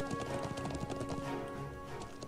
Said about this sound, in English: Horse, I return! Onward!